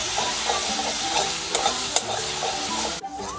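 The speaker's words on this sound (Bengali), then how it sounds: "টক দই প্রথম থেকে জল ঝরিয়ে ফেটিয়ে রেখেছিলাম, সেটা দিয়ে দিলাম। এবার আমি ভালো করে মিশিয়ে নেব" Strained, whisked yogurt being stirred into fried spices in a hot pan, with a steady wet sizzle, scraping stir strokes throughout and a brief dip in the sound just after three seconds.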